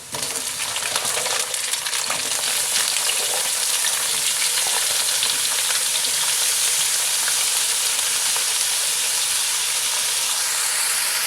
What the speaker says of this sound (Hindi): दो 3 मिनट फ्राई करते हैं।